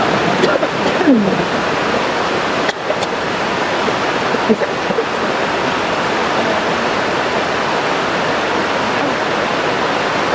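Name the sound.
flowing water by the waterside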